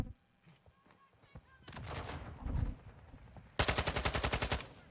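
Video game gunfire in a military shooter: scattered shots and a noisy firefight build up, then a rapid automatic burst of about a dozen evenly spaced shots closes the clip, loud and close.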